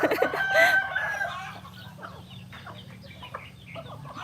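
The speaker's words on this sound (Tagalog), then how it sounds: "So ito na yung mga manok namin." A rooster crows loudly up close, followed by scattered soft clucking from several chickens nearby.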